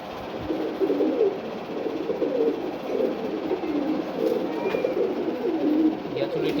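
Ghiyachulli pigeons, two males, coo in a low murmuring rhythm that runs steadily throughout, close by and fairly loud over faint background noise.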